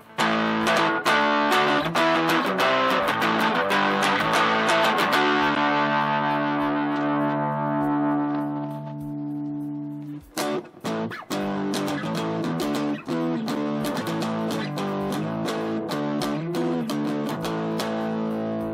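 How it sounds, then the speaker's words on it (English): An electric guitar is played through a Fab Distortion pedal into a TASCAM DP24/32 virtual amp, producing loud, fuzzy, sustained distorted chords that ring out and decay, followed by choppier strummed passages, with no talking. "Now let's go over to my friend the Fab Distortion pedal."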